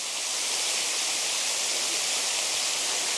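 Waterfall at South Lawson, a constant broad rushing roar of falling water that stays even and close throughout, with no voices.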